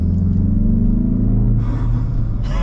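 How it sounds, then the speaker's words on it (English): A 2024 Mazda 3 turbo engine pulls hard under acceleration, heard from inside the car as a loud, close, deep rumble with rising engine tones and a brief airy rush near the end. "It's so cool to hear that turbo noise"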